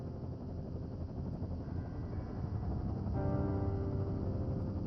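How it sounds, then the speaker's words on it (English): Helicopter arriving in the game Firewatch, a steady chopping rotor drone that grows slightly louder and nearer over five seconds and has no talk. "There's the helicopter."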